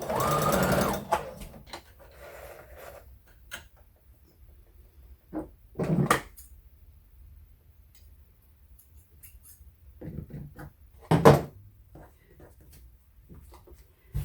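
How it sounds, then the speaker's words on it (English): A sewing machine stitches quilt squares along the diagonal in a few short, separate runs, with quiet pauses and light fabric-handling noises in between. "And you just sew them on the diagonal."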